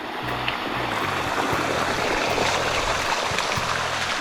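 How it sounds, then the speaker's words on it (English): Rushing water of a waterfall in Chiang Mai, Thailand, walked through by climbers, a steady broadband roar that stays even and close the whole time, with no voices over it. "We're literally just walking through a waterfall."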